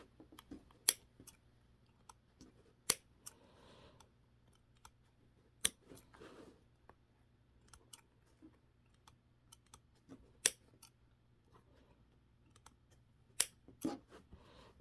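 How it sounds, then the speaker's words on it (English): Scissors snip through several layers of fabric around a hobo bag being sewn, a quiet series of sharp, separate clicks at an irregular steady pace, close up with no talking. "So I'm going to make snips all the way around."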